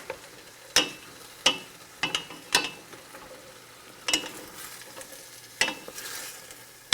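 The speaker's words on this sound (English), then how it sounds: "Let it fry a little bit." Food frying in a pan while making pasta and potatoes, with a low steady sizzle punctuated by several sharp, irregular clinks and scrapes of utensil against pan, close and fairly quiet.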